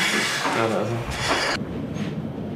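A train pulls into Copenhagen Central Station with a loud, continuous rumble of wheels and carriages that cuts off sharply partway through, then fades to a quieter hum.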